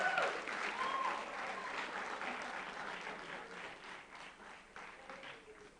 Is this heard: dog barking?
no